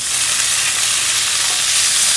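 Meat sizzling in avocado oil in a frying pan, a loud steady broadband crackle and hiss that stays constant throughout, close up with no talking.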